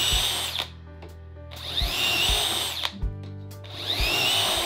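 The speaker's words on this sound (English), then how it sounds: "you will drill all the holes at the exact same place" A power drill whirs loudly in three long bursts, drilling dowel holes through a doweling jig, the pitch dropping as the bit bites into wood, with short pauses between holes.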